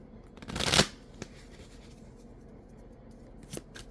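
A deck of cards is riffled in one quick burst, followed by a few soft taps and another brief shuffle, with no talking.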